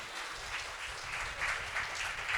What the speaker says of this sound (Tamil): பலத்த ஒரு கரகோஷம் கொடுத்துருவோம்